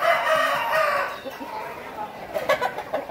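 Chickens cluck and a rooster crows in a farmyard setting, the crow rising loudly at the start and broken clucks following, with voices talking in the background.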